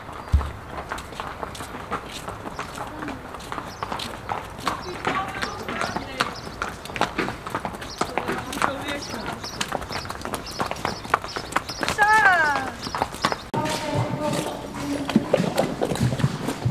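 Horses at a stable walking along with their hooves clip-clopping in a steady, uneven patter that is fairly close and lasts throughout, while people talk in Dutch over it.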